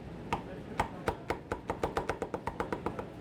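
A person mimics a drummer knocking on a door by rapping on a hard surface, a string of crisp knocks that begin spaced apart and speed up into a quick, close, steady roll.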